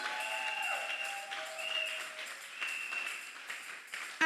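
Congregation in a church service clapping and cheering to acclaim the Lord, a lively wash of applause with scattered voices and whistles rising and falling for a few seconds.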